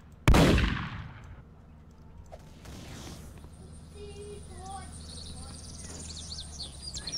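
Gunfire in the Roblox game Armored Patrol: one loud, sharp blast near the start that fades out, followed by faint scattered game sounds and chirps over a steady low rumble.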